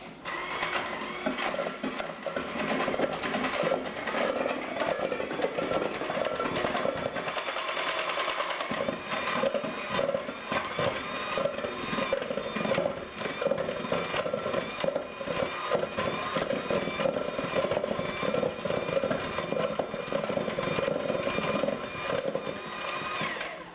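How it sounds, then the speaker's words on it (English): Electric mixer beating butter to fluff it before mixing with sugar for chocolate muffins, a steady close mechanical whir that runs the whole time with a slight change in tone partway through. "We're going to be fluffing up the butter first, so it'd be easier to mix with the sugar."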